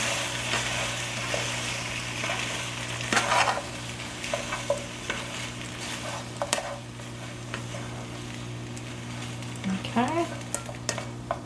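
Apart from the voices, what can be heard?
stirring noodles in a frying pan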